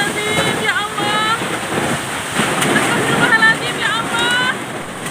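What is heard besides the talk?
strong wind with heavy rain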